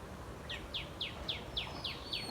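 Small birds chirp at dusk in an outdoor spot where leftover food gets scattered. A quick series of about seven high, evenly spaced chirps rings out over quiet background noise.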